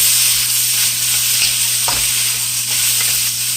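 Leftover vegetables sizzle loudly and steadily in a hot stir-fry pan, the constant frying hiss broken by soft scrapes and knocks as they are mixed, with no voices.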